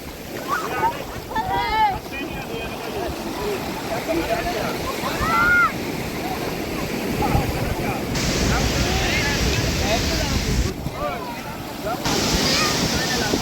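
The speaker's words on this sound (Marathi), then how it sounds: "समुद्र किनारा भारीपैकी" Sea waves washing onto Vengurla beach at sunset, a broad rushing surf with wind buffeting the microphone, while voices and excited chatter sound over it in the first half.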